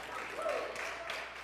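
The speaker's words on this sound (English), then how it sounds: "I appreciate the applause" A church audience applauds with a soft, diffuse patter of clapping at moderate distance, fairly faint, with a voice speaking over it.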